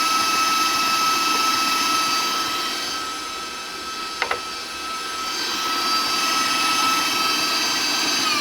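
A stand mixer spins blueberry buckle batter with a steady whirring motor hum and a faint high whine, dipping slightly in the middle, with a brief clack partway through.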